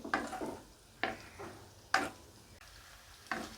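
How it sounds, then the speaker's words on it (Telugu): Eggs frying in oil in a pan while being turned with a utensil, for an egg masala curry: close, uneven scraping strokes over a soft sizzle, with no voices. "ఎగ్స్ ఇలా ఆయిల్లో వేసుకున్నాక అట్లనే వదిలేయమాకండి అంటుకుపోతాయి ప్యాన్కి ఇట్లా తిప్పుతూ వేయించుకోవాలి"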